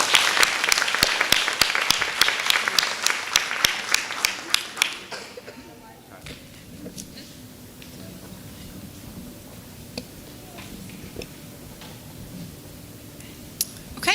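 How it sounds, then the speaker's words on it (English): Clapping from the audience at a school board meeting honoring teachers and educators of the year, crisp individual claps for about five seconds that then stop, leaving quiet room sound with a few faint taps. "So, one more round of applause."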